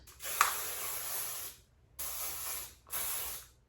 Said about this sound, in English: Let's put our thermal defense hairspray in first.